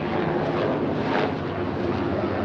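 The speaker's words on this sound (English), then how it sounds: "Got planes flying overhead." Airplanes flying overhead make a loud, continuous broadband engine roar that swells slightly in the middle and fills the whole stretch with no talk.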